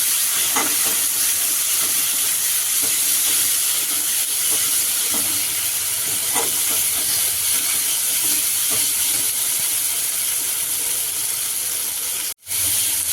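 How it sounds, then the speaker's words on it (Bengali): Ginger, cumin and chili paste ground on a grinding stone is fried for a vegetarian potato curry (aloo dum), giving a steady close sizzling hiss with faint stirring scrapes, broken by a brief dropout near the end. "মশলা কষানো হচ্ছে অল্প একটু চিনি"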